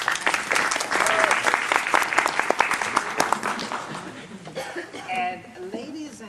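An audience at a school board candidates forum breaks into applause after an opening statement, a dense burst of clapping that fades out over several seconds, with a few chuckles and a voice speaking over the tail.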